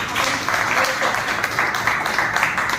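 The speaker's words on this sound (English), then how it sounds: "Please continue clapping." Audience clapping fills the room, a dense, continuous patter of many hands at fairly close range, with voices mixed in underneath.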